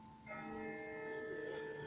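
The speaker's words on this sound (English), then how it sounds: "That's not the same bell as before. This one's further off." A distant bell rings in The Walking Dead video game, a single faint, resonant struck tone that sustains and hums with rich overtones for nearly two seconds.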